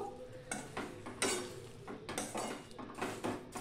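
A spoon stirs melting jaggery in a pan over a low flame for plum pickle, giving repeated scraping strokes with faint sizzling underneath. Nearby and quiet, with no talking.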